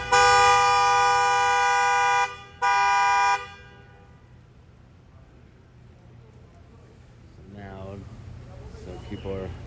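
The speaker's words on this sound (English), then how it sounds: "You have this person sitting there honking the horn," A car horn blares on a one-way street in two long, loud, steady blasts with a brief gap between them, then stops, followed by a person talking over quiet traffic.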